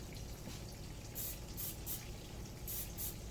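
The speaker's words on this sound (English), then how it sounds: "the trick is spray some Pam or butter spray on it" Short high bursts of cooking spray hiss onto a metal hammer in a kitchen while breaded pork chops are prepared, several quick sprays over a steady low background hum.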